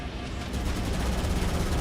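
Jackal snipers firing needle rifles in Halo Campaign Evolved, a dense continuous rumble of gunfire and blasts that swells slightly toward the end, with no clear single shots.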